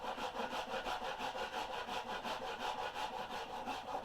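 Rhythmic rasping strokes of a wooden boat half hull model being shaped by hand carving, repeating evenly about twice per second, close and steady with no talking.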